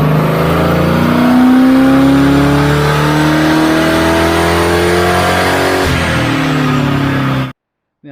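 Holden stroker engine with a dual 3.5 inch exhaust and carby spacer, revving hard on a dyno; a loud, close, sustained roar climbing in pitch that stops abruptly near the end.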